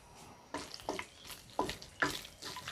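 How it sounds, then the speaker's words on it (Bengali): Whole cloves, cardamom, cinnamon and two bay leaves fry in hot oil, giving a close crackling sizzle with several sharp bursts and spatters over a couple of seconds. "একই তেলে দিয়ে দিচ্ছি কয়েকটি লং, এলাচ, দারচিনি ও 2টি তেজপাতা।"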